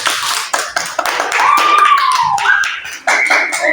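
Classroom of students applauding a classmate, a close, lively patter of many hands clapping in uneven bursts, with a whistle-like tone rising and falling over it midway.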